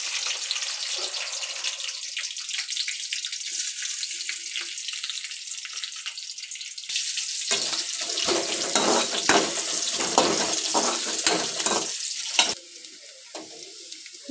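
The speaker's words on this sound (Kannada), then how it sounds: "ಇವಾಗ ಈರುಳ್ಳಿ ಫ್ರೈ ಆಗಿದೆ" Onion and green chillies fry in a generous amount of oil, a bright, steady hiss that turns into louder, busier crackling with stirring scrapes midway, then drops away abruptly near the end.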